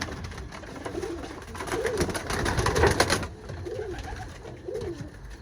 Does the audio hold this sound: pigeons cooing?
yes